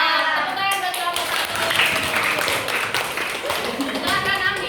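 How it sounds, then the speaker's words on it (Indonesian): Schoolchildren in a primary science class applaud a student group, a steady patter of clapping hands running throughout alongside children's voices and chatter. "Tepuk tangan buat kelompok"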